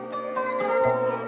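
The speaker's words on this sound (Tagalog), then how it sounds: "Introducing Anti-Tamad Alarm Clock." An alarm clock rings in a radio advertisement, a short burst of bright, rapid electronic beeps pulsing over about a second.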